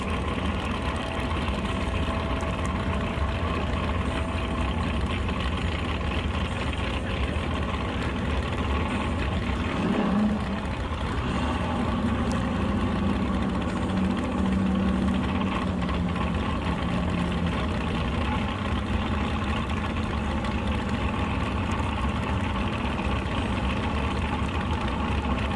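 A Mustang drag car sits idling in gear at a drag racing event before pulling forward to pre-stage, its engine giving a steady, rough, low rumble that holds constant throughout with faint background noise from the track.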